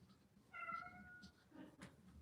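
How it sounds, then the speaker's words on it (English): A house cat meows once in a drawn-out, rising-and-falling cry, close by in a quiet leatherworking studio, followed by a shorter, fainter second call. "Stupid cat."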